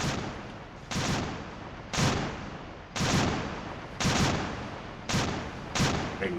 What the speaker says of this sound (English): Very noisy guns.